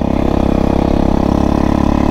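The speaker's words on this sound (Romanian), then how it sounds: "se aude acum motorul mai tare" Motocross motorcycle at a national motocross race stage, engine running loud and steady with a rapid, even pulsing idle throughout, close by.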